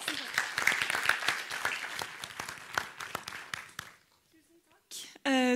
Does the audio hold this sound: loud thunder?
no